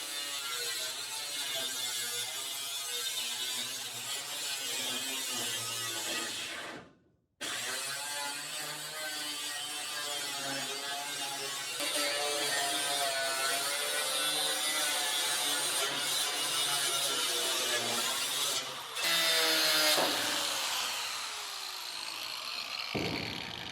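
A cutoff wheel grinding through metal in a workshop, a continuous loud whining buzz with a short break partway through and a shift in pitch near the end.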